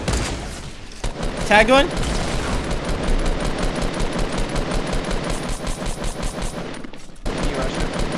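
Sustained rapid gunfire rattles almost without pause in Fortnite Battle Royale during a duos fight, loud and dense with only a brief break near the end, while players talk over it.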